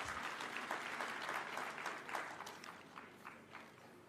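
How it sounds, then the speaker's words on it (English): Audience applause at the opening of a devolution conference in Eldoret as a county governor arrives on stage, a steady, dense wash of clapping from a large crowd that fills the whole stretch, slowly tapering toward the end. "Let's give him a clap as he's coming."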